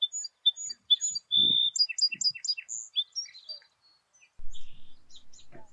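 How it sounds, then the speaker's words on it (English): A song sparrow sings nearby in a Virginia setting, a bright series of crisp chirps and rapid trilled notes in quick phrases, clear against a quiet background with a faint low thump. "yet commonly seen and heard, the song sparrow."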